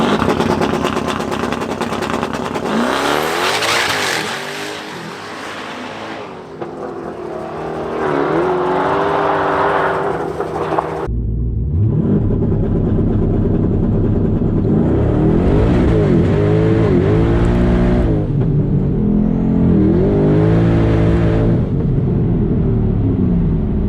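A twin-turbo sixth-generation Chevrolet Camaro at a drag strip roars loudly and continuously through rising revs and gear changes. There is a brief drop in the middle, then the engine climbs hard again through another long high-revving pull.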